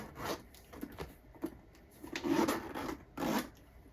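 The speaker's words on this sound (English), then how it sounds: "Let me zip her back up." Zipper on a Gucci Ophidia GG Supreme shoulder bag being pulled closed, a few short rasping strokes with brief pauses between them, close and fairly quiet.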